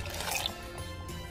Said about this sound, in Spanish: Le voy a poner un poco de agua